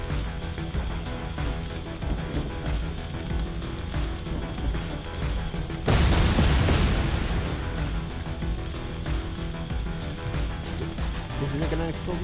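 Ion Fury video game: a single loud explosion bursts out midway over constant game sound and music, then fades back into the steady background.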